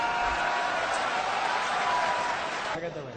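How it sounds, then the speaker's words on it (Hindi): A live audience claps continuously in dense, steady applause that fills the room, then tapers off at the end. "तो सब ताली बजा के समर्थन कीजिए।"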